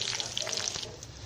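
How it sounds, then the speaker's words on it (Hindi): A tadka of white cumin seeds, curry leaves and green chillies frying in hot oil for kadhi pakora, giving a steady close sizzle and crackle with faint watery hiss throughout. "तड़के में मैंने ये सफ़ेद ज़ीरा भी ऐड किया है, कड़ी पत्ता और हरी मिर्चें। अब मैं इसे फ्राई करूँगी।"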